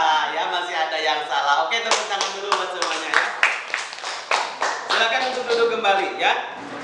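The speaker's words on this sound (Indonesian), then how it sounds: "tepuk tangan dulu buat semuanya ya" A class of students claps together during a classroom lesson, an uneven patter of many hands in a close, lively burst of applause that carries on for several seconds.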